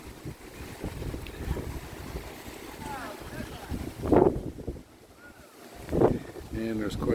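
Strong wind buffets the microphone on a lanai overlooking whitecapped ocean in Kihei, a steady roar with gusts surging around four and six seconds while trees sway nearby.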